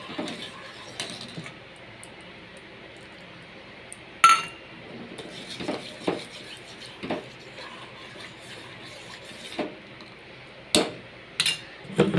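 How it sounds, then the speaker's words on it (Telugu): A spoon clinks and scrapes against a pot while almond paste is poured into milk and stirred for a homemade almond milkshake. The taps are light and irregular, spread over a low background hiss. "ఇప్పుడు దీన్ని పాలల్లో పోసుకోవాలి, కలుపుతూ ఉండాలి."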